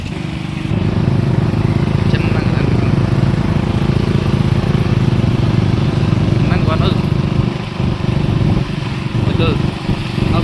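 Several motorcycles rumble steadily through a road safety bike rally held with police staff and mandal youth in Kondapuram, a continuous close engine drone with occasional revs, joined by voices over it.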